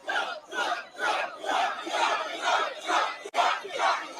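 A large crowd at a political rally in the Bronx, New York City, chants and shouts in loud rhythmic bursts, roughly one every half second, with a brief gap just past three seconds.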